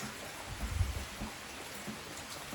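Rain falls steadily on a farm in the evening, a soft diffuse hiss with a few low thumps, heard alone without any talking.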